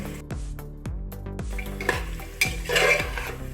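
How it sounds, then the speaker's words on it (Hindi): Masala paste of cumin and chilli frying with peas and tomatoes in a pan, a spoon scraping and knocking against the metal in a regular stirring rhythm over a soft sizzle, close and clear. "मसाले को अच्छी तरह से भूनने के लिए चलाकर छोड़ देंगे"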